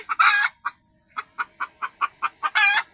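A hen trying to lay an egg in the back seat of a car clucks in a run of short, evenly spaced pulses, framed by two louder, drawn-out squawks at the start and end, close and clear with no talk.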